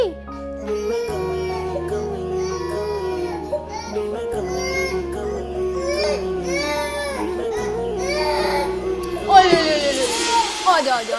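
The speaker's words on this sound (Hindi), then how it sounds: "लेकिन मेरा बच्चा रो रहा है।" An infant cries in a drawn-out, wavering wail that rises and falls in pitch, steady and fairly loud, over a low background hum, turning harsher toward the end.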